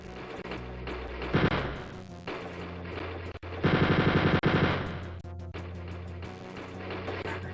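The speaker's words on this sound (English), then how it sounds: "I think he has like 4 machine guns on his arms" Rapid bursts of boss machine-gun fire from Wolfenstein 3D (DOS, 1992), arms fitted with several guns, rattling in dense volleys with short pauses and a louder stretch midway, with no talking.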